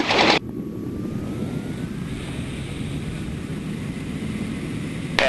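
Small aerobatic airplane engine during spin recovery, a steady near propeller drone with rushing wind noise that holds evenly for about five seconds, with brief louder bursts at the start and end.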